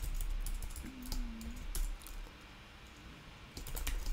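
Keys tapped on a computer keyboard to enter the Command+N shortcut and a file command, a few quiet, close clicks in short clusters near the start and end.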